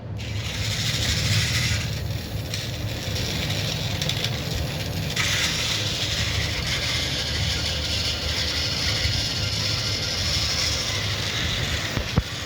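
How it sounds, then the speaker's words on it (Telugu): Centy toy train engine running on its track, a steady near mechanical whir and rattle of small gears with ratchet-like clicking, continuous and fairly loud throughout with no talk. "ఒకసారి ఇంజిన్ మళ్ళీ ఆన్ చేద్దాం."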